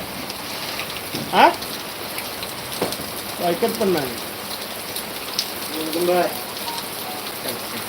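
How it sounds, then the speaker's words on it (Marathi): Heavy monsoon rain in Konkan pours down as a steady broadband wash, while several people chat and exclaim intermittently over the downpour. "पाऊस बघ बेस्ट पाऊस"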